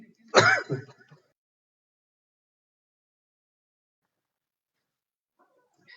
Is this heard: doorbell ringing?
no